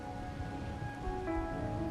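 Steady rain falling in a video game scene, a soft continuous patter with a faint tonal background, no voices.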